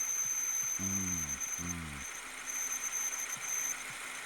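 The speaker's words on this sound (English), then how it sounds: "That was coming from inside the engine bay." A car engine idles in a steady low drone, and two short rising horn-like tones sound near the start.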